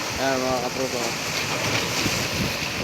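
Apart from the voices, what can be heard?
waves crashing at the sea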